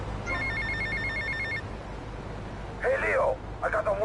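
A telephone ringing in the game GTA Vice City, a rapid electronic trill in repeated bursts, followed by a voice speaking.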